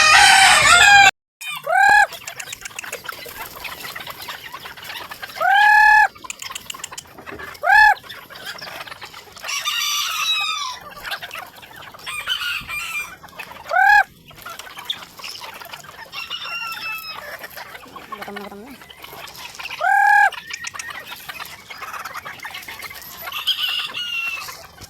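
Laying hens at feeding time cluck and squawk busily up close, with roosters crowing loudly several times over the flock's chatter and rustling.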